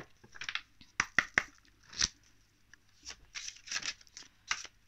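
Oracle advice cards being shuffled in a string of quick papery riffles and soft snaps, each burst close and crisp with short pauses between, no voices.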